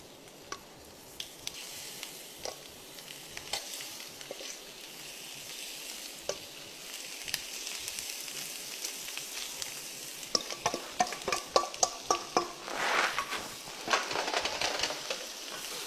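Chicken pieces are laid into a hot frying pan and sizzle softly and steadily, with scattered crackles and pops that grow busier toward the end.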